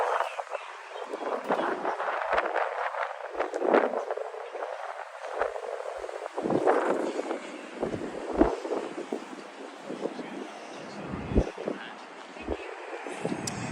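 Gusty wind buffets the microphone on a breezy day in New York City, a low rumbling roar that rises and falls throughout under a person talking.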